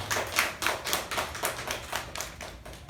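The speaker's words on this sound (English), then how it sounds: "So let us give a huge round of applause for the evaluator and the speaker." Applause at a Toastmasters club meeting for a speech evaluator and speaker: a small group clapping steadily with distinct, moderately close claps that gradually thin out, no talking over it.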